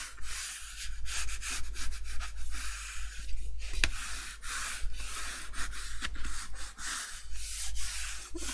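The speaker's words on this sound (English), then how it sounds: "So grab my big squeegee." A large squeegee pressing paper down in a craft mini album project, heard as steady close scraping and rubbing strokes in a continuous rhythm, with a few sharper scuffs.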